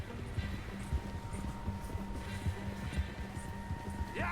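Galloping horse hooves from Red Dead Redemption 2 pound out a fast, steady rhythm throughout a chase during a train heist mission, with game ambience underneath.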